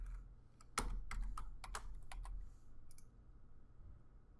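Keystrokes on a computer keyboard while entering an answer into a math equation editor, a quick burst of crisp clicks early on that thins to a few scattered taps, close and fairly quiet, with no talking.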